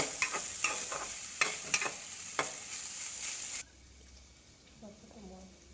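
Bottle gourd peels with salt, turmeric and slit green chillies sizzle in a pan as a spatula scrapes and clacks in sharp repeated strokes, then the frying quiets to a softer hiss while a voice talks faintly.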